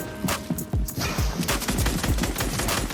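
Rapid bursts of automatic gunfire in the video game Fortnite crackle densely and loudly throughout, overlapping shots in quick uneven volleys with no talk.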